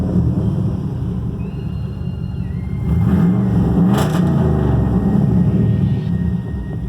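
A large truck engine idles steadily, its low rumble swelling louder partway through and staying strong to the end, with no one speaking.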